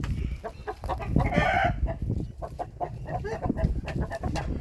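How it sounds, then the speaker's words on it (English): Hens and a rooster cluck and call close by in a farmyard coop where chicks are hatching, with repeated short bursts and a brief louder squawk near the start. "And there is the pretty chicken."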